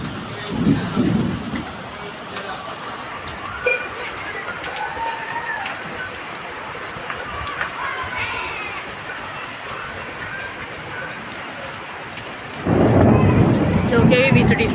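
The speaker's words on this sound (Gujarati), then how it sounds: "સારું થયું વરસાદ આવ્યો, થોડો ઠંડુ થઈ ગયું." Heavy rain pours steadily onto a terrace, with loud low thunder rumbles at the start and a big roll near the end, faint voices and children's chatter half-buried under the downpour.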